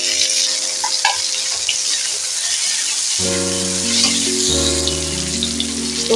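Chopped tomato hits hot oil with fried garlic and fries with a steady close sizzle and crackle, while sustained musical tones rise in the background partway through.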